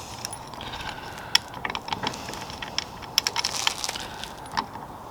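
A wrench undoes a half-inch nut on a 2021 Harley-Davidson Sport Glide, giving close, quiet metallic clicks and ratcheting ticks in uneven bursts over a steady background hiss.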